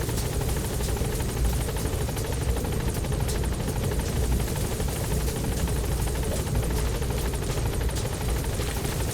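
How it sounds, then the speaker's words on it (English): Support helicopter from the video game Metal Gear Solid V: The Phantom Pain arriving at a landing zone, its rotor thudding as a steady, loud, dense roar that holds for the whole stretch with no talk over it. "Support helicopter has arrived."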